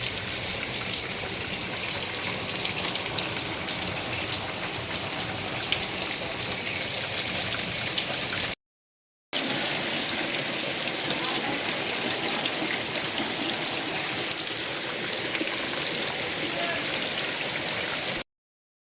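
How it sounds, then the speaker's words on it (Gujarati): Rain pours steadily in a flooded rural area, a dense continuous hiss of drops on surfaces, loud and close, broken by a brief silent gap midway before resuming just as heavily. "વરસાદ છે ને ફરી પાછો શરૂ થઈ ગયો છે"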